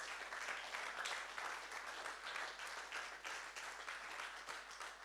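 A church congregation at a sermon applauds with dense, sustained clapping that fills the room at moderate volume.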